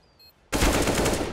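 Sudden burst of rapid automatic gunfire in Counter-Strike, starting after a quiet moment and continuing as a dense, loud, close stream of shots.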